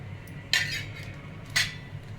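Onion, cloves, peppercorns and cinnamon sticks drop into a metal cooking pot for homemade tomato ketchup, making two short, bright clinks about a second apart over quiet background hum, with no voices.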